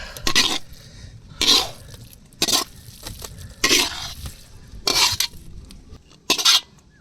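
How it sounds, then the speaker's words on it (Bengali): Spatula scraping and stirring fried water lily (shapla) stems in a metal pan, six distinct, evenly spaced strokes with quiet gaps between them, close and clear with no voices. "একটু ঠান্ডা করার জন্য একটু নাড়িয়ে নিচ্ছি"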